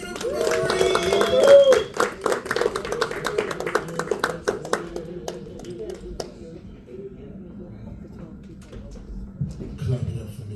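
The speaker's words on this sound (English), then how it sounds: "Give it up for Mo Green." A comedy show audience in Wethersfield, Connecticut claps for a comedian, dense hand claps over the first few seconds that fade out, with a voice speaking over them.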